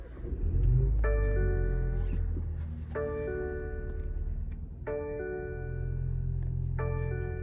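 A 2021 BMW 330i xDrive in sport mode cold-starts, its engine rumbling loudly and steadily alongside a repeating series of harmonic chimes, with no talking.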